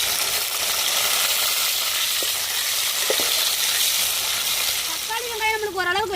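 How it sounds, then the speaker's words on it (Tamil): Chopped tomato and onion sizzle and crackle in hot oil with mustard seeds, urad dal and curry leaves, a steady loud frying hiss with a few light clinks and a brief stirring scrape near the end. "இதோட வெட்டி வச்ச தக்காளி வெங்காயத்தையும் சேர்த்துக்கிறோம்."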